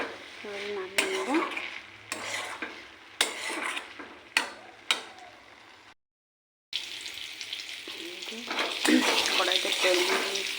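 Prawns sizzle in hot oil in a wok while a spatula scrapes and clatters against the metal in sharp bursts, with a brief silent gap before the steady frying and stirring resume.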